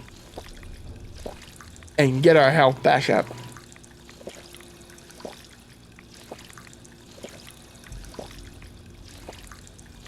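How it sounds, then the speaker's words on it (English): Water gurgles repeatedly as a character drinks from a drinking fountain in Fallout 4 in survival mode. Soft, regular pouring sounds run through the clip, with a brief spoken line over them. "let's spend some time here at the drinking fountain"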